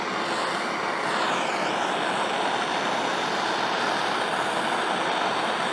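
A torch roars in a loud, steady blast while it heats the ground-down skeg of a 1975 Mercury 20 hp outboard, with no one talking.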